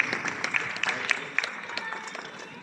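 Audience applause welcoming a speaker at a mushaira, a dense patter of clapping with scattered sharper claps, steady and moderately loud throughout.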